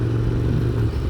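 Ducati Scrambler Desert Sled engine lugging in first gear at steady revs while the motorcycle climbs tight, rocky off-road terrain; a continuous, loud, low drone with a faint clatter on top.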